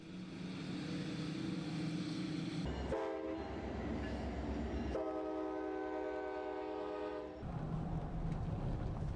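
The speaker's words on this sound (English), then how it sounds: "It is now a popular sightseeing train that is used to enjoy the scenery of Alaska." A gold rush era sightseeing train in Alaska rumbles loudly and sounds its horn in sustained blasts, the horn cutting in and out over the constant rolling noise.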